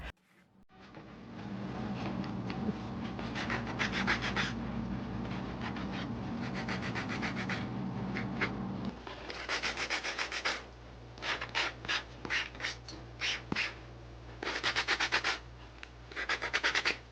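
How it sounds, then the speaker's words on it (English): 3D-printed Pip-Boy parts are hand-sanded with a sanding sponge and sandpaper. Up close, a steady scratchy rubbing runs for several seconds and then breaks into short, quick strokes with brief pauses between them. "began the process of sanding them down just with a sanding sponge and some sanding paper"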